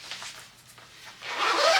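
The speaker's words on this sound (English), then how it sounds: "So they both still have that zipper here, so you can take it off and on while you're wearing your shoes." A zipper on Air Force PT pants is worked at the ankle, with light rubbing fabric sounds first and then a louder, close rasping zip near the end.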